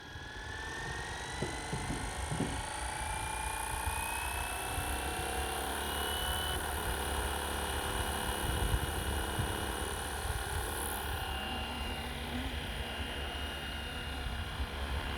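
A stock Flywing Bell 206 RC helicopter lifts off slowly, its rotor and electric motor making a steady, loud whirring buzz with a high whine that holds throughout, close to the microphone.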